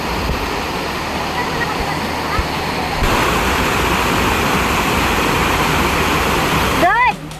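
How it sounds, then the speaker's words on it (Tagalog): Curtain Falls at Ar-arbis Falls in Lagayan, Abra, pours as a loud, constant broadband roar of rushing water filling the whole stretch, with a voice faintly audible beneath it. "So ang tawag nga nila dito ay Curtain Falls."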